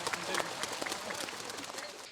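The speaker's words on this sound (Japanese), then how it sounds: "これはこの戦いに確かに大きな拍手を送ってあげてください。" Spectators applaud at a D1 Grand Prix drift battle at Ebisu Circuit, a fairly faint, scattered outdoor patter of clapping from the crowd, with some voices mixed in.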